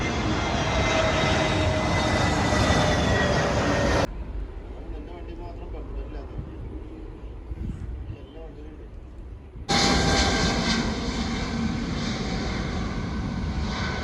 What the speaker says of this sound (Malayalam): ദേ ഒരു ഫ്ലൈറ്റ് ഇപ്പോൾ പൊങ്ങാൻ കിടപ്പുണ്ട് കേട്ടോ